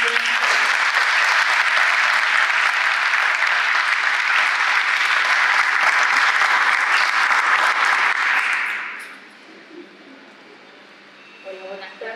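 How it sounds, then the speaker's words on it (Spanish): Strong audience applause welcoming a woman to the stage at a public forum on youth, loud and sustained for about nine seconds before fading to quiet room murmur. "recíbanla con un fuerte aplauso"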